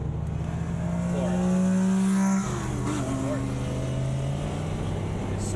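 A Pontiac Grand Prix GXP engine drones steadily on a race track, its pitch shifting as it accelerates, loud and continuous while a voice talks over it.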